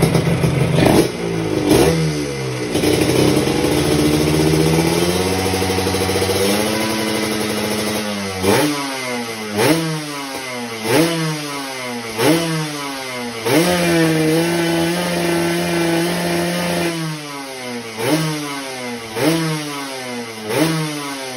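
A motorcycle engine with a 62mm cylinder block revs up and down repeatedly, close and loud, with rising and falling pitch in a steady cycle of throttle blips.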